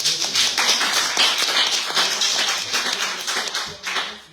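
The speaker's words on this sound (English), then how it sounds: "So let's give our guests a round of applause." An audience at a City Island community meeting applauds its guests, a continuous, fairly loud patter of many hands clapping that swells and then begins to taper off near the end.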